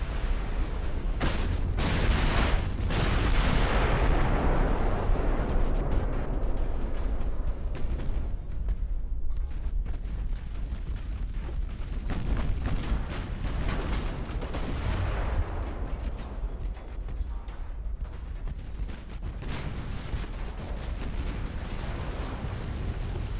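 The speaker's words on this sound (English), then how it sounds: "The battlecruiser's got the biggest guns" Heavy naval gunfire from a battlecruiser's big guns in the Ultimate Admiral: Dreadnoughts warship game, with loud booming salvos and dense rumbling blasts that continue steadily throughout.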